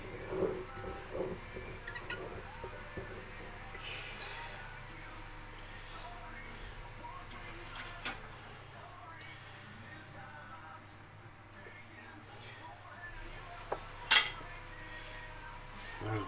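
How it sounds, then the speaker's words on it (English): A spatula scrapes down the sides of a sourdough starter container in soft, intermittent strokes, with occasional clinks and a sharper knock near the end, and faint talk underneath. "I'm going to try and scrape down the sides a bit with a spatula."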